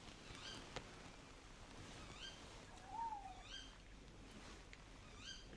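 Tawny owls calling at night outdoors, a sharp female contact call and repeated hooting-like phrases from a male perched close overhead, several short calls spread across the stretch over a faint steady background.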